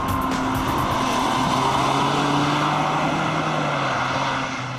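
A Ferrari 575 M Maranello, a 1.8-ton Gran Turismo, drives through a curve with throttle-induced wheelspin, its engine droning loud and steady throughout with a sustained high-pitched whine.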